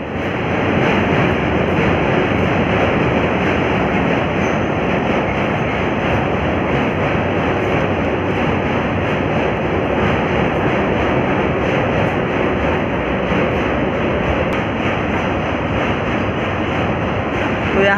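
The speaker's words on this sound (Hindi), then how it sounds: "यहाँ पे ट्रेन जा रहा है, आप सभी देख सकते हैं, और ये ब्रिज पूरी तरीके से हिलता है" A train rumbling across the rail bridge at Khirkiya Ghat in Varanasi, a loud, steady roar of wheels and wagons that holds unbroken for the whole stretch.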